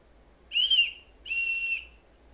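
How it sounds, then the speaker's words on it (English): A safety whistle from a truck emergency kit gives two clear, close blasts. The first is short and slightly wavering and the second is longer and steady, with a brief gap between them and no talking. "I guess the whistle works."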